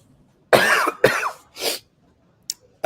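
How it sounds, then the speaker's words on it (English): Three harsh coughs in quick succession, close and fairly loud, followed by a short pause and a faint catch of breath. "I'm gonna cough"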